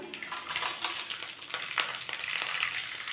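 Curry leaves, tempering seeds, dried and green chillies and peanuts crackle softly in oil for a chukka kura pulihora, a quiet close sizzle with occasional spoon scrapes and pops.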